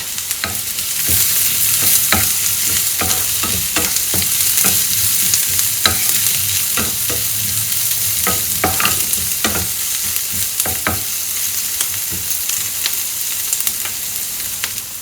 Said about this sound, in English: I'm just adding a pinch of salt so that the onions sweat.